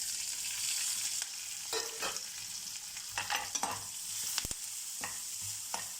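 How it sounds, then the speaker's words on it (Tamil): Grated coconut lightly sautéed in oil with chillies, coriander seeds, chana dal and urad dal crackles in a soft, quiet sizzle, broken by a few sharp scraping stirs and clicks of a spoon against the pan. "லைட்டாக தேங்காய் வதக்கலாம்."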